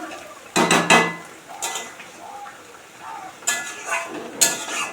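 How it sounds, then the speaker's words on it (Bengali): Cooking pots and utensils being washed, with clattering metal knocks and clinks in separate bursts. A brief stretch of quiet talk falls between them. "এবার শুধু রান্নার বাসনগুলো মারবো"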